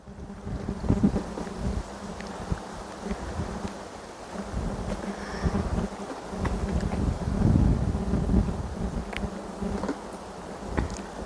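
Cool wind gusts across an outdoor garden, rumbling against the microphone in uneven surges, with faint insect buzzing in the background.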